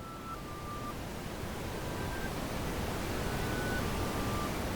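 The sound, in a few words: added masking noise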